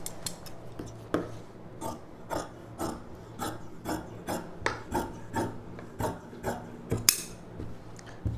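Scissors cutting fabric for a puff sleeve on a girl's pavadai sattai blouse, heard as a steady run of close, rasping snips repeating roughly every half second with no talk.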